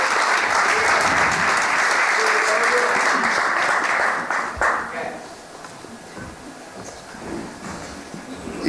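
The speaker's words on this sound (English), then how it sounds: "Can we get a round of applause for the current mayor of Houston" A crowd at a Houston hip hop anniversary event gives loud applause for the city's mayor, strong for about four seconds, then dropping to lighter clapping as people talk.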